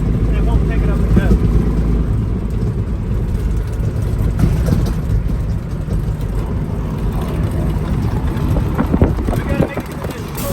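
A Peterbilt 379 junkyard truck lugging in fourth gear on the road, its low engine rumble steady and close under wind buffeting, with someone talking over it.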